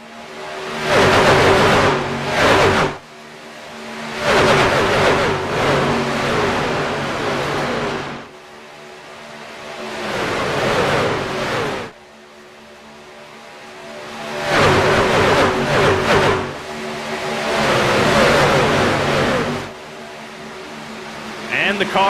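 Race cars at full speed on the Talladega superspeedway: loud engine roars surge and fade in repeated waves as packs of cars sweep past, with a commentator talking throughout.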